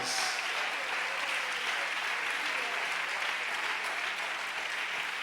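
Applause from a church congregation during a Spanish-language sermon, a steady unbroken wash of many hands clapping together that holds evenly at moderate loudness throughout, with no voices rising above it.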